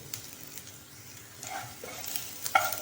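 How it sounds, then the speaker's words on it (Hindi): Garlic goes into hot oil in a pan for a Chinese-style veg manchurian and sizzles softly at close range, a low crackling hiss with faint stirring taps. "ऑयल अच्छे से गर्म हो गया है, तो इसी टाइम पर मैं इसके अंदर ये जो मेरे पास लहसुन है वो डाल रही हूँ।"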